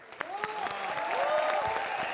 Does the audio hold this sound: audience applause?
yes